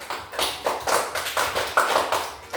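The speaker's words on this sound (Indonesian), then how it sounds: "tepuk tangan untuk kelompok 1" Schoolchildren in a sixth-grade elementary classroom clap for group 1, a rhythmic, patterned clapping in repeated bursts, close and steady, with no talking over it.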